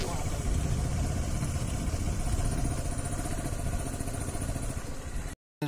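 A motorbike running steadily along a lonely jungle road, its mid-pitched engine rumble and clatter constant and close throughout, with a brief dropout near the end.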